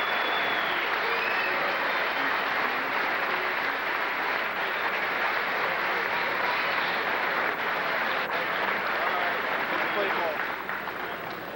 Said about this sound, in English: how about one more round of applause for the class of 1996.